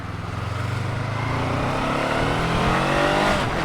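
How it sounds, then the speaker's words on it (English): Honda NX500 motorcycle engine accelerating steadily, a loud close rising drone that climbs in pitch through the gears over a few seconds, with no voices. "It's a peppy engine, and you can really use the engine to have a bit of fun."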